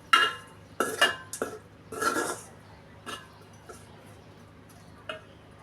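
A spoon clinks and scrapes against a pan while shrimp and yardlong beans are stirred with salt, turmeric, chili and a little water, in a few sharp taps then quieter intermittent ticks.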